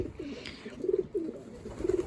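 Pigeons coo in a few soft, low, rounded phrases, close by and fairly quiet, with short pauses between calls.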